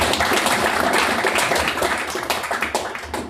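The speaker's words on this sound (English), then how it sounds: "Give a round of applause." Audience applause after a guest speaker's talk at a Startup Grind evening event, dense and steady clapping from a room of people that stays close and loud throughout before easing slightly toward the end.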